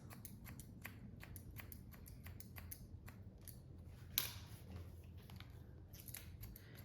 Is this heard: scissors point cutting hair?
yes